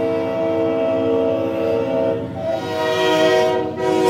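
A CSX freight train rolls close by with its horn sounding in long sustained harmonic blasts over the steady rumble of the cars, loud and continuous throughout.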